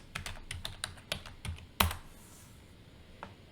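A run of quick, light keystrokes sounds on a computer keyboard while typing entries into a spreadsheet, closing with one sharper key tap and a final soft click, near and alone.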